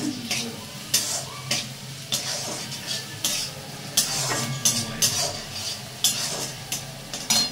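Onions fry in a pan toward golden, a steady sizzle broken by repeated scraping stirs of a spatula every half second or so, close and fairly loud.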